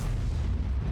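A tank cannon from the Obj. 268 v5 tank destroyer in World of Tanks fires a high-explosive shell, a loud, deep, rumbling blast that fills the whole second with heavy low-end roar.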